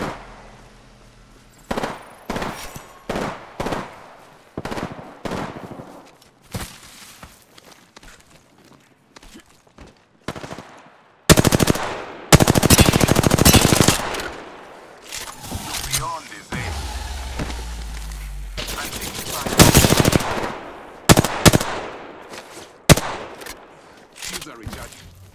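Bursts of gunfire from the video game Apex Legends crackle in rapid volleys over game ambience, with a loud sustained stretch of automatic fire mid-clip and scattered shots and footsteps around it.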